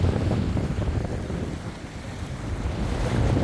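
Strong wind of about 25 knots roars continuously across a sailboat running under jib at sea, mixed with rushing water and surf, loud and unbroken with no voices.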